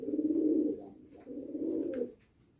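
Low, throaty coos from pigeons in a pigeon loft, in two long rolling phrases, close and clear, with a brief pause between them and quiet afterward.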